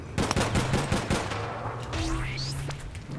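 Rapid automatic gunfire from the online shooter game APB Reloaded rattles loudly in a dense burst. It fades into a trailing whine of game effects.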